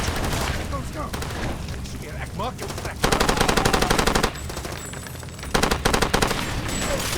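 Two long bursts of rapid automatic gunfire in the video game Far Cry 2 stand out against quieter scattered shots and clatter, loud and close.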